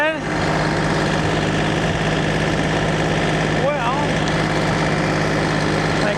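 A tractor engine idles with a steady, unbroken low rumble throughout, and a brief voice-like sound rises over it near the middle.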